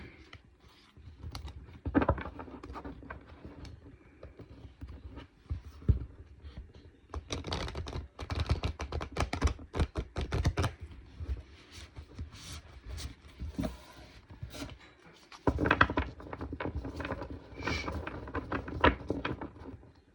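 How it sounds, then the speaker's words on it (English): Crisp, rapid riffling and flapping of cards in several bursts, close by, with soft handling clicks between shuffles. "These cards are so hard to shuffle."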